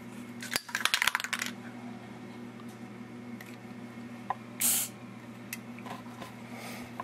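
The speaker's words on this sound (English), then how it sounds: "I'm just going to spray a shot of lithium grease on the spring" Metallic clicks and rattles from an AR-15 lower receiver build, then a single short hiss of lithium grease sprayed from an aerosol can onto a spring, followed by a few light taps in a quiet room.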